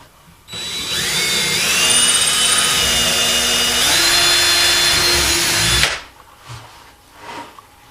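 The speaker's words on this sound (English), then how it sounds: "drywall screw, and you screw it in" A power drill drives a screw into drywall with a single sustained high whine lasting about five seconds, rising slightly in pitch midway, then cutting off, followed by a few faint clicks and handling sounds.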